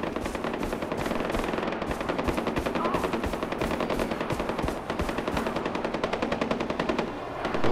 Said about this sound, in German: Worauf schießen die?